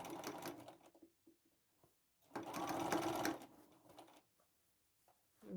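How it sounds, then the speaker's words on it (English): A sewing machine stitches a fabric bucket hat in short bursts of rapid mechanical whirring, with a longer run in the middle and quiet gaps between runs. "Okay, so now I am going to sew it again."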